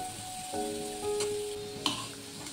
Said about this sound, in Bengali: আলুগুলোকে কড়াই নাড়াচাড়া করে নেব।